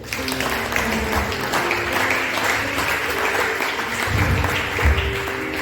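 A church congregation applauds during a sermon, a dense, steady wash of clapping from a crowd that continues for the whole stretch without a break.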